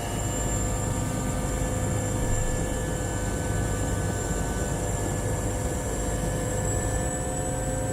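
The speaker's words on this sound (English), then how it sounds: "And we're on liftoff. So this was the first time I've ever been in a helicopter." Steady, loud rotor and turbine roar of a helicopter spooling up for liftoff on a Greenland trip, a dense continuous drone with high whine lines that holds evenly throughout, with no talking.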